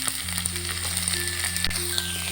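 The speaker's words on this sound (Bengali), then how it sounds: "এবার ওই তেলে 2 মিডিয়াম সাইজের পেঁয়াজের কুচি দিয়ে দিলাম।" Two medium chopped onions hiss and sizzle loudly in hot oil after fried fenugreek seeds are lifted out, a steady close crackle with faint background tones and no voices.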